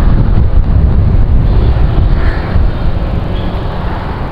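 Strong outdoor wind buffets a microphone on a sunny afternoon, a steady loud low roar with no talk.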